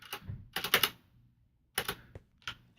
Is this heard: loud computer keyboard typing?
yes